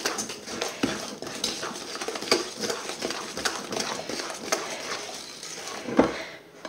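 A utensil stirs a tiramisu mixture in a bowl, making repeated soft scraping and clinking strokes with an irregular rhythm close by, plus one sharper knock near the end and no speech.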